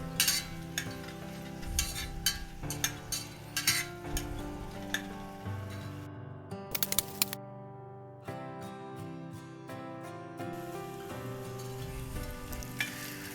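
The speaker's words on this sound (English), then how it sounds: "we shall cook the onions till it becomes golden brown. Time to time, please stir it." Onions frying in oil for green coconut pulao rice, a continuous hiss with frequent spoon scrapes and clinks against the pot, briefly dropping away midway before the sizzle resumes.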